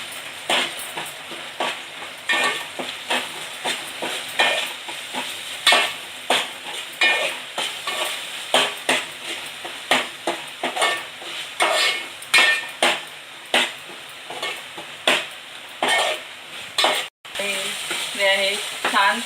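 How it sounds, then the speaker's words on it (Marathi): A coriander, coconut and ginger-garlic paste sizzles and fries in a pan for prawn masala, with steady frying hiss and repeated stirring scrapes and clinks of a spoon against the pot throughout, no talking. "ती पण एकदम छान परतून घ्यायची."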